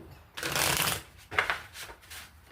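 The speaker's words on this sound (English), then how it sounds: "I'm going to shuffle until cards jump out" Tarot cards being shuffled by hand, close up: a long papery riffle burst followed by two or three shorter flutters, with no talking.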